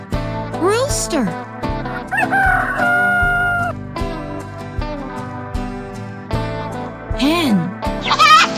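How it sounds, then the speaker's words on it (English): A rooster crows several times over cheerful, bouncy background music in a children's cartoon, the rising-and-falling calls loud and near. "Rooster."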